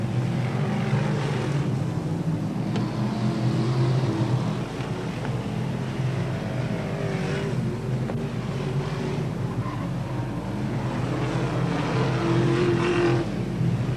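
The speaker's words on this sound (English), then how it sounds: "Lorenz trying to come through on the inside of the slower car, Edwards." Race cars roar around a dirt track in a 1990 A-main event, with steady engine drone and passing surges over a continuous background rumble from a distance.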